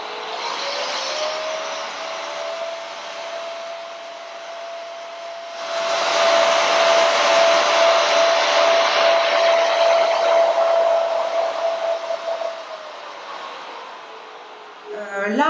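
A vacuum cleaner running with its suction turned up to full gives a steady whining roar with a sustained tone, grows louder partway through, then dips near the end.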